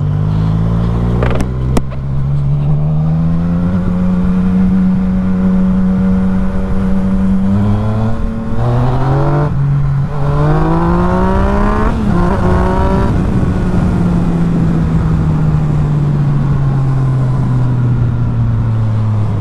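A Yamaha MT-09 motorcycle engine pulls loud and close while riding, its tone climbing through revs, dropping briefly at gear shifts and rising again, with a steady drone throughout and no talking.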